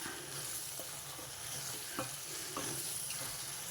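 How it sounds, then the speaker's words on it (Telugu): Bitter gourd pieces fry with masala in a pan, a steady close sizzle with a few soft scraping stirs over about four seconds and no voices. "కాకరకాయ ముక్కలు వేసేసి ఈ మసాలాతో పాటు కొసేపు వేగనిస్తా"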